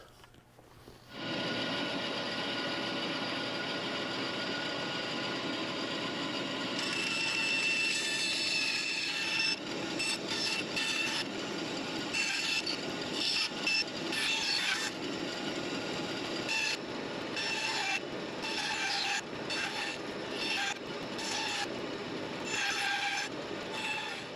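Bandsaw cutting wooden bow rockers for a large rocking horse: a constant loud motor drone with a rising, rasping tone as the blade bites into the wood, close and continuous with no speech.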